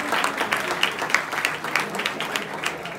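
An audience at a school Ganeshotsav traditional day event claps steadily in honour of a judge, dense continuous applause filling the room at close range with no pauses.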